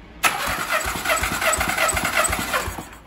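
A 2013 Skoda Octavia A7 1.2-litre CJZA petrol engine cranks on the starter during a compression test of the first cylinder, giving a steady rhythmic churning with regular compression pulses for about three seconds, loud and close, with no talk.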